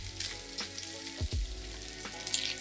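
Bacon fat fries and renders out in a pan with a continuous sizzle, broken by a few scraping stirs and small pops.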